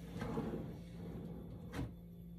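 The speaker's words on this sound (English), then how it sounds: "Then you simply drop the drawer box on the slide, push it in" A rollout drawer box is pushed in along its slide. A soft rolling rumble ends in a quiet thud as it seats, then a brief later knock, all faint and close with no talk.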